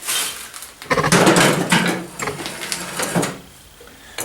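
A steel ring being slammed out of a die, several loud, close metallic-wooden knocks and scraping thuds in an uneven series, fading to a quieter rustle before a final knock.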